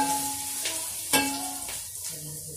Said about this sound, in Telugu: సో ఆనియన్స్ చిన్న చిన్నగా సన్నగా కట్ చేసుకొని ఆయిల్లో అయినా లేకపోతే నెయ్యిలో అయినా లేకపోతే డాల్డాలో అయినా ఫ్రై చేసుకోండి.